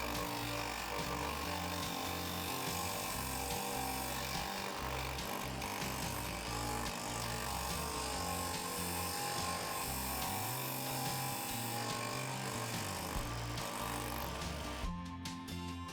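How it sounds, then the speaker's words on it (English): Wood being sanded down to a marked line for a beginner magic-trick project, a steady continuous scraping drone at close range that runs unbroken from start to finish with no talking. "Then sand down to the line and smooth off your edge."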